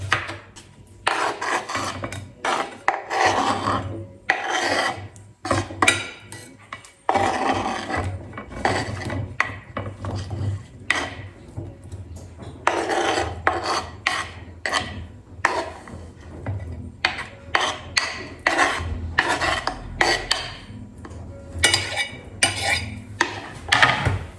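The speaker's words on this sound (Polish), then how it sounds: "Teraz właśnie kroję tutaj pomidorki już ukrojone, pokrojone i teraz ogóreczek." Knife cutting tomatoes and then a cucumber on a board in a home kitchen, giving repeated short chopping and rasping strokes in quick bursts, close and fairly loud, with occasional clinks of dishes and no talk.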